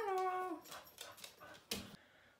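A pet dog gives a high, drawn-out whine followed by a few short yips and whimpers, close and fairly quiet.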